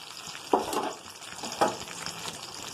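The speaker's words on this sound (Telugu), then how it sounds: "అల్లం వెల్లుల్లి పేస్ట్ వేసుకుందాం." Ginger garlic paste with onions, curry leaves and green chillies hitting hot oil, a steady close sizzle with two sharper bursts as ingredients go in, no voices.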